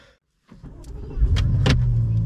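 BMW M8 car starting off, a brief quiet gap followed by the engine and road noise swelling into a loud, steady low rumble close by, with short clicks or mechanical sounds along the way.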